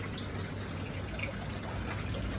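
Water drips and trickles steadily from the drain line of a rooftop aquaponics setup into a sump tank, a continuous soft liquid patter heard up close.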